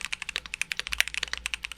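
Rapid, even keystrokes clatter on a custom-built mechanical keyboard, crisp close clicks in a quick steady rhythm with no voices.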